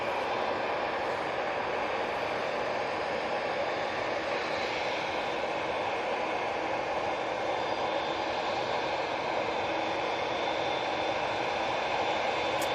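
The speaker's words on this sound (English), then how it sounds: "Look at this beautiful TUI Dreamliner coming down Tango." TUI Boeing 787 Dreamliner landing at Manchester Airport, a continuous broad jet roar and hiss, steady and fairly distant, with no voices.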